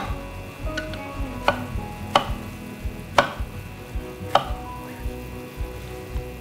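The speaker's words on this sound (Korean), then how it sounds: "그래서 이제 깍두기처럼 썰어주세요" A knife chops eggplant into cubes on a cutting board, a series of crisp, evenly spaced close thuds about once a second, with no talking.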